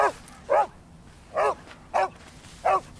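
A dog barks five times in short, evenly spaced sharp barks, close by, over a faint background hum at dusk outdoors near a car.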